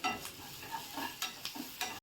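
Curry leaves frying in hot oil with a spice paste tempering for vada pav, a soft sizzle under repeated stirring scrapes of a spoon in the pan, close and quiet.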